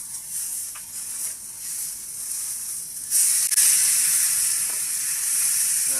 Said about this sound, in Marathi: तर ह्या साईडने पण आपण 5 मिनिटं चांगली फ्राय होऊन देणार आहेत